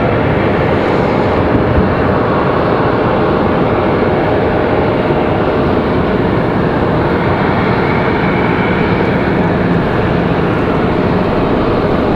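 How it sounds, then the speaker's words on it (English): A Delta CRJ regional jet roars steadily while departing the runway at Raleigh-Durham airport, a loud, continuous broadband engine rush with no voices. "Got a Delta CRJ headed up the hill now for departure"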